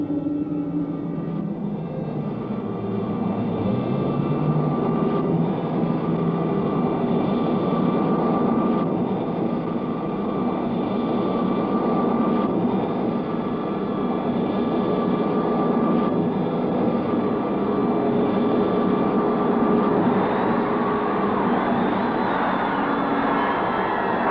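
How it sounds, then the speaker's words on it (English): A cartoon spaceship's engine roars steadily as it enters a planet's atmosphere to land, a loud, continuous, unchanging rumble with a high whine across the whole stretch. "Stand by for landing. We're entering atmosphere."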